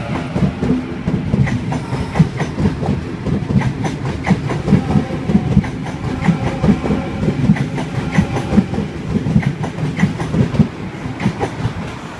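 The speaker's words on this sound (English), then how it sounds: "Got Waratah A70 departing platform number 1, city service, and then it will proceed to Penrith" A Sydney Trains Waratah A70 set departs platform 1 at Milsons Point on a city service bound for Penrith, its steady rumble and rhythmic clickety-clack of wheels over rail joints sounding close and continuous throughout.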